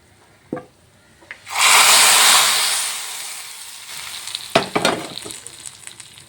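Roasted coconut is tipped into a pan of yam and bean erissery, bringing a sudden loud sizzle that fades into softer frying and stirring with a few sharp scraping clinks.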